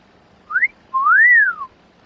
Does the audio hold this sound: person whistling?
yes